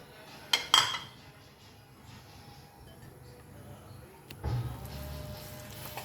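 A spatula scrapes and clinks against a pan while egg curry masala (anda masala) is sautéed, giving a few sharp metallic knocks early on and a soft, steady cooking rustle afterward, fairly quiet with no talking.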